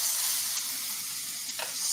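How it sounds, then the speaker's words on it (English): Food searing in very hot, smoking grapeseed oil gives a steady, close broadband sizzle that runs the whole time, with a brief louder crackle near the end and no voices. "Nice sizzle."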